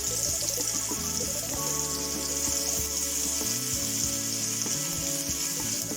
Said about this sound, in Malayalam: ഇതിലേക്ക് നമുക്ക് കോവയ്ക്ക ഇട്ട് കൊടുക്കാം. കോവയ്ക്ക ഒന്ന് വറുത്തെടുക്കണം.